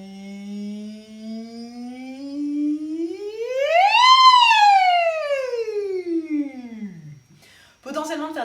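A singer's voice slides smoothly from a low pitch up high and back down in a vocal siren warm-up on an O vowel, imitating a siren, followed by a short burst of speech.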